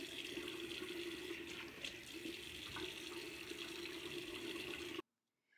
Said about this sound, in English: So I'm washing my face here.